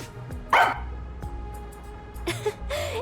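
A dog in the detective video game Master Detective Archives: Rain Code gives one sharp, close bark, then after a pause a couple more short barks over a quiet background.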